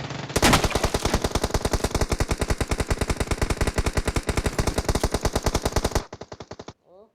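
Gunfire in the mobile game BGMI: a loud, rapid burst of automatic fire rattles steadily for about six seconds, followed by a few trailing shots and a brief tail.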